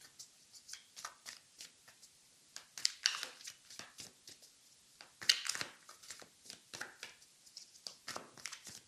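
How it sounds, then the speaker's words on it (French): Tarot and oracle cards shuffled by hand in a steady run of quick, crisp riffling bursts, close and fairly soft, with no voices. "Je mélange les cartes avec vous."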